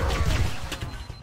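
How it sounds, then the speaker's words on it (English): A flashbang grenade goes off in Halo: Combat Evolved, a short, dense, crashing burst with a sharp crack partway through, heard close and loud over continuous game noise. "Flashbang."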